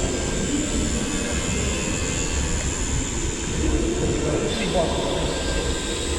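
A Moth biplane RC model flies with its electric motor humming steadily, heard as continuous broadband whir and wind noise at fairly constant loudness, with a slight shift partway through.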